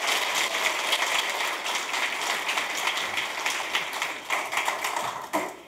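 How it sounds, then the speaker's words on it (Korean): Audience applause welcoming the mayor at a first-anniversary celebration concert in Icheon, dense, sustained clapping from a large crowd, loud and continuous, tapering slightly near the end. "여러분 큰 박수로 환영해 주십시오"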